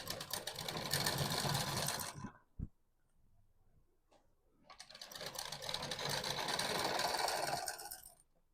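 A sewing machine stitches buckram around a round suit neckline in two loud, close, continuous runs. A short pause separates the runs, with a sharp click and faint handling noise in the gap.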